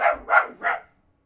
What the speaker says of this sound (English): Hold on, I need to calm down a dog.